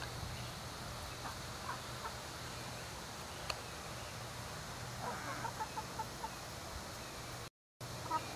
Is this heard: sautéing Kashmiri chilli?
no